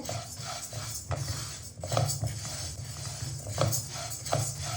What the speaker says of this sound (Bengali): এবার হচ্ছে ডাল ভাজার পালা আমি এটাকে খুব হালকা করে ভেজে নেব